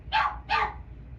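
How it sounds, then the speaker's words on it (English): A dog barks twice in quick succession, sharp and fairly close, over a low background hum. "as this freaking dog's barking"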